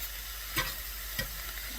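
Elk enchilada filling sizzles and fries in a frying pan, a soft steady hiss close by with a couple of brief stirring scrapes, no voices.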